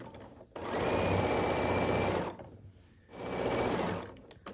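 Close, steady whirring hum of a sewing machine stitching the final stretch of a quilt seam, running in two sustained bursts with a short pause between them.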